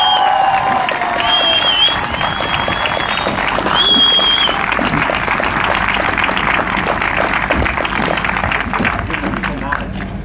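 A large crowd at an outdoor political rally in Cologne applauds steadily throughout, with scattered cheers and whistles mixed into the dense clapping.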